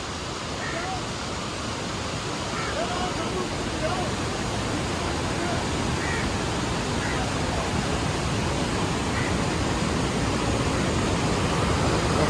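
The main Hogenakkal waterfall in full flow, a dense, steady roar of rushing water that fills the whole clip, with faint distant crowd voices mixed into the wash.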